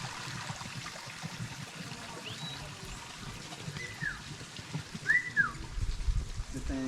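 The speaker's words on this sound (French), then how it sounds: "C'est un canard siffleur, il siffle." A whistling duck in Madagascar giving a few thin, rising-and-falling whistles at intervals, faint to moderate, over trickling water and low outdoor background noise.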